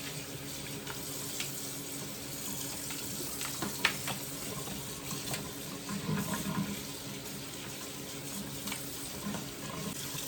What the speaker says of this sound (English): I'm gonna let the water run over those for a minute.